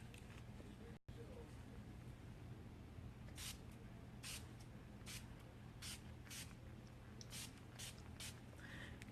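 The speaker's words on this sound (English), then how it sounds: "Now I'm only going to apply my finishing spray." Makeup finishing spray spritzes out in about ten quick, crisp bursts, each a brief airy hiss, coming close and fairly evenly spaced over a quiet room.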